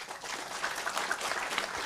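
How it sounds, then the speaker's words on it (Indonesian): Dense applause from a seated audience at a talk on capitalism and trade, a steady wash of many hands clapping that holds evenly throughout at moderate level. "Nah, tepuk tangan untuk dia."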